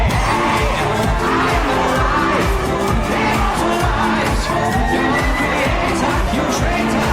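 A dense concert crowd at a show roars and cheers continuously, loud and close, with shouts and whoops rising out of the wash of noise.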